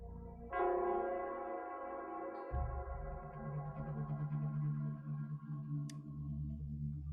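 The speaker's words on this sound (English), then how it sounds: "it's the Nell Squares bell." The Nell Squares bell rings out with a sustained, echoing metallic tone that swells, then gives way to a deeper resonant hum, processed and reverberant throughout.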